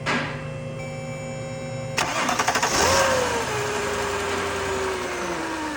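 Mercedes car with a no-start fault cranking on direct power, a rapid starter chatter that catches into a running engine, revving briefly then settling into a steady idle, close and loud.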